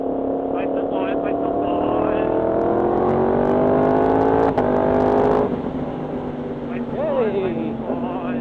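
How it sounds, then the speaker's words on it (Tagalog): A motorized tricycle's engine drones steadily and close, a continuous, rough mid-pitched hum that briefly swells midway before easing slightly, with muffled voices faintly underneath. "Tricycle ni Uncle."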